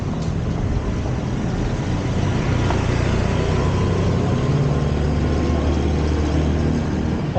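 A continuous, loud engine roar from a motorcycle passing close on an evening ride, steady throughout with a faint low hum shifting midway.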